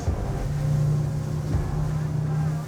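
A Nord Star 42+ motor yacht's engines drone steadily at around 2500 RPM while the boat runs at speed, a low constant hum mixed with rushing water and wind noise.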